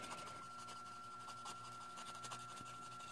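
The 200-grit side of a buffer rubs over a gel nail in short, soft up-and-down strokes, a faint close scratching rasp repeated in quick rhythm.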